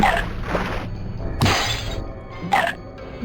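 Plates shattering in the 102 Dalmatians game on Dreamcast, three sharp crashing breaks about a second apart, each with a bright ringing smash, close and loud over a quiet background.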